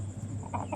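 A backyard chicken with a cold makes short, congested clucking noises, close and fairly quiet, with a few rougher raspy bursts toward the end.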